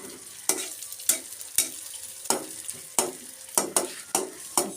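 Food frying in a pan while a cook stirs it, a steady sizzle broken by about eight sharp scraping stirs at fairly even intervals, close and fairly quiet, with no talking.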